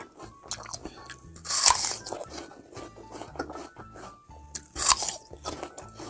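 Crisp crunching bites into an apple, two loud bursts followed by steady chewing, close up with no talking.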